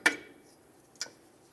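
Two sharp metallic taps about a second apart as a small hammer knocks a brake tin out of place on the rear brakes of a 2003-2011 Mercury Grand Marquis, close and quiet otherwise.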